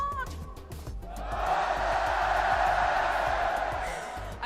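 A live watch-party crowd for a Fortnite championship swells into loud, sustained cheering and shouting, building after a second and holding at full volume before easing slightly.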